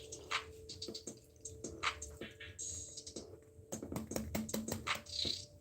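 Water spilled onto a table while bottling homemade wine, with irregular drips, splashes and small taps scattered close by and fairly quiet throughout.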